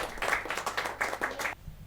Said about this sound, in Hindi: आइए जोरदार तालियों के साथ हमारे नई मानद निदेशक जी का।